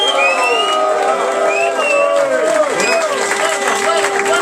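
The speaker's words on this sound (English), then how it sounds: "Make some noise for Crusher." Crowd at a Cup Clash event in London cheers for Crusher, a dense roar of shouting and whoops layered with whistles and high voices, sustained and loud throughout.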